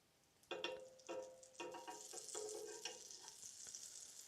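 Butter sizzles and crackles in a frying pan in a house in Finland, faint at first, then sputtering in bursts as it is stirred, with a continuous hiss underneath and no talk.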